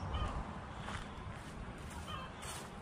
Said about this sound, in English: we've got some little chooks and some fluffy chooks